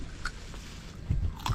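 Crunchy bite and chewing on a dried cacao bean during a cacao plantation tour in Costa Rica, with a short crack near the start and a louder burst of crunching chews toward the end, close and alone.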